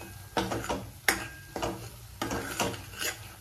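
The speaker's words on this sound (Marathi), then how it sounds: "हा छान परतून घेऊया" Masala is sautéed in a pan for shev bhaji while a spoon scrapes and stirs it in several repeated strokes, each a rasping scrape with light clinks over a soft sizzle, close up and without talk.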